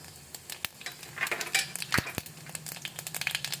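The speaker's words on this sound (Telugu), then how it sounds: "తాలింపు గింజలు మంచిగా చిట్పట్ అంటున్నాయి కదా." Tempering seeds splutter in hot oil for a bottle gourd and chana dal curry, crackling in quick, irregular pops and snaps over a soft sizzle, close and clear with no talking.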